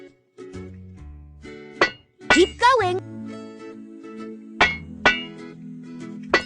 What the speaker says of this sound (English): Use a hammer to level out the dents.